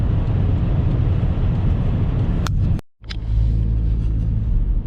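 Interior road roar of a car cruising at about 190 km/h on a German autobahn, a dense low rumble with steady wind and tyre noise, briefly cut out and resuming, no talk.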